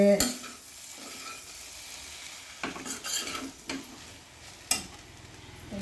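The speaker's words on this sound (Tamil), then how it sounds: "இப்படி ஒரு பெரட்டு அப்படி ஒரு பெரட்டு நல்லா பெரட்டிட்டு" Metal spatula scraping and stirring kothu parotta with salna on a hot griddle, with a steady sizzle underneath and a few sharper clanks near the start and end.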